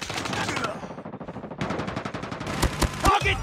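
Automated sentry gun in the Call of Duty Mobile video game firing in rapid bursts amid other gunfire, loud and close, with short game voice callouts mixed in.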